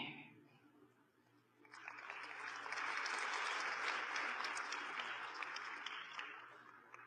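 An audience at a spiritual talk breaks into applause after a quiet moment, the clapping swelling quickly into a dense, sustained roar that holds steady to the end.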